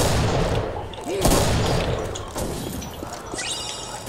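AK rifle gunfire from a modded Left 4 Dead 2 co-op match, several sharp shots ringing out over busy game noise with bursts of shouting and chatter in the background.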